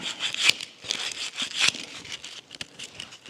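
Sandpaper of 220 grit scrubs by hand across a Scout 800 steering wheel being restored, giving a close, raspy, uneven scratching in short strokes with a few sharper scuffs.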